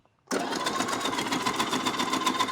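A Sonifer 1600 watt, 22,000 rpm blender-style salad maker chops a carrot, starting abruptly into a loud, steady high-pitched motor whir with a fluttering, buzzy edge.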